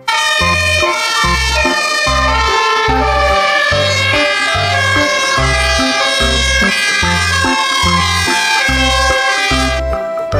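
A toy fire truck sounds its siren, a loud electronic wail with steady pulsing beats underneath, running continuously and alone for about ten seconds.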